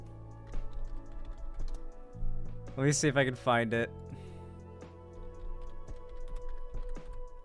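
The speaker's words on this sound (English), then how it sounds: "I love when you're, like, typing into the search bar on Twitter" Rapid keystrokes clatter on a computer keyboard while someone types into a Twitter search bar, the tapping continuing before and after a brief spoken phrase in the middle.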